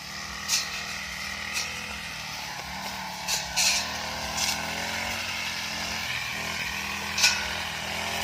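A motorized grass cutter drones steadily while cutting tall grass, its engine a continuous buzzing hum with several short sharp swishes and bursts as blades strike stems, moderately loud and close.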